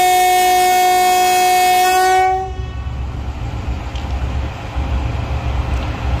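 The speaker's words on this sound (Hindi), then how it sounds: "सेकंड डिपार्चर विसल दे दिया दोस्तों GU40 ने" The GU40 locomotive hauling the Millat Express sounds a loud, sustained multi-tone departure whistle at a station, which cuts off after about two seconds and leaves a low rumble and ambient station noise.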